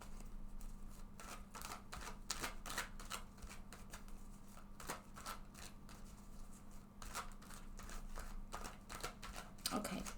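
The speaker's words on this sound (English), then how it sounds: "I'm just going to shuffle this deck several times" Repeated quiet card shuffles, a steady series of papery riffles and taps over a faint hum, continuing for several seconds.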